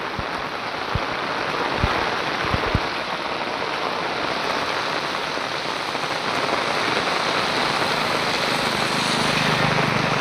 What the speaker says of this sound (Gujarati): વરસાદ બહુ પડી રહ્યો છે